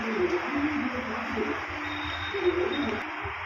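Pigeons coo softly and repeatedly in low, rolling calls, close by, over a steady hiss of heavy falling rain.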